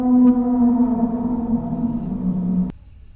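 The Bloop, a deep-sea underwater recording, plays as a sustained low tonal drone with steady harmonics that slowly bend downward, moderately loud and alone, then cutting off abruptly.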